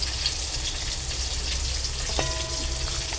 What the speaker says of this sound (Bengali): এই যে এক গ্যাসে লুচি বসিয়ে দিয়েছি, লুচি ভাজার সাথে সাথে আরেক জায়গায় মাছের মাথাটা ভাজছি